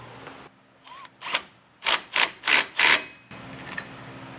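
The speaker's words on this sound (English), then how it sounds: "So I'm going to put this where it's going to start winding up, and we do have clearance, so I'll go ahead and tighten this cable drum down." A spring cable drum on an enclosed trailer's conventional ramp door is tightened, giving a short series of five or six loud ratcheting clicks in quick rhythm, close by, after a couple of quieter mechanical taps.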